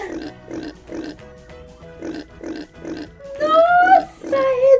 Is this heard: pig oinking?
yes